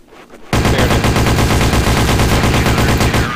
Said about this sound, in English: I got a lucky headshot with the UMP